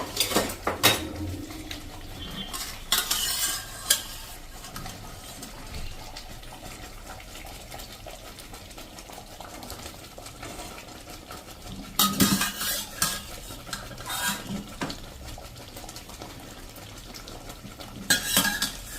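Boiled drumstick pods are tipped into a gravy and stirred, producing intermittent clinks and scrapes of a spoon against a metal pot, separated by quieter stretches of soft stirring.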